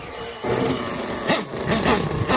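A nitro RC race car engine being primed and started with the throttle held open and the exhaust blocked, a sudden loud buzzing mechanical burst that kicks in abruptly, then sputters and revs unevenly at close range.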